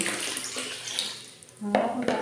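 Water in a bathroom being readied for mopping: a steady wash of splashing, running water, with a couple of brief clinks and a tonal ring near the end.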